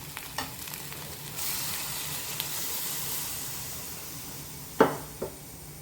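Curd being stirred into a ground coconut paste in a pan for kalan, a faint steady sizzle and hiss with a few sharp spoon taps against the pan, no voices.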